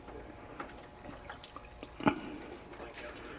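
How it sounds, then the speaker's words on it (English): Water spilling out of a Fleck 5600 water softener valve during repair, a soft trickle with scattered drips and one sharper splash near the middle, with faint background voice. "You're going to get some water coming out of here."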